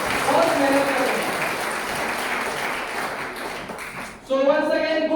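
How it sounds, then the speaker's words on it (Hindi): Loud applause fills the first four seconds as an audience claps for an event sponsor, with a speaking voice over it. The clapping then fades out and talk continues alone. "आपके स्पॉन्सर के लिए एक जोरदार ताली बजाएं"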